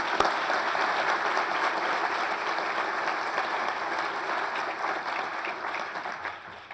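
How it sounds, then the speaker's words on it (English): Sustained applause from a conference audience, steady and moderately loud throughout with no talking over it. "please join me in giving them a round of applause for their work"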